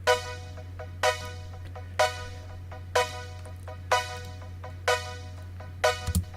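Two layered lead synths, an Expand 2 part with a Nexus LD Classic JP Leader 1 preset, play a bright stabbing pattern of notes roughly once a second over a steady low bass drone, with no talking.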